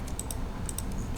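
Computer keyboard keys tapped while editing in AutoCAD, several light, crisp clicks in two quick clusters with a short pause between, close and clear over a low background hum.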